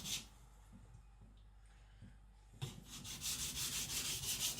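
A custom Patrik Carlvik nakiri knife is sharpened with a rhythmic, close grinding rub against a stone. It starts soft and sparse, then turns louder and steady with repeated strokes.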